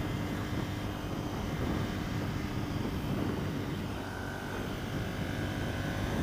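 Ducati Monster 659 motorcycle cruising at 85 km/h, a steady, even engine drone blended with rushing wind for several seconds, with no talk.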